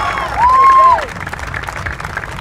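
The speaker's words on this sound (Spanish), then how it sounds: "fuerte el aplauso para él, el aplauso bonito." Applause from an audience at a clown show, a burst of clapping and crowd noise under a loud whistle-like tone near the start, settling into steadier clapping afterward.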